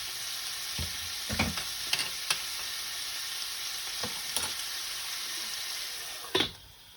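Meat and a generous amount of garlic fry in a hot pan, giving a steady close sizzle with a few sharp stirring clatters scattered throughout and a louder scrape near the end.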